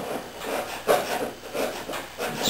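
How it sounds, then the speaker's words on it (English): A chisel scrapes along the edges of wood seams, producing repeated rasping strokes in an uneven rhythm, close and fairly loud, with no speech. "scrape up some edges with the chisel"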